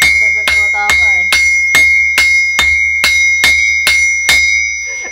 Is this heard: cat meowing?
no